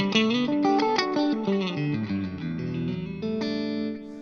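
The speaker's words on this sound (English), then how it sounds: "that then has the delay and reverb on there, and that's my sound for cleans" A clean electric guitar plays a melodic line of picked notes and chords, bathed in echoing delay and spacious reverb, with no voices.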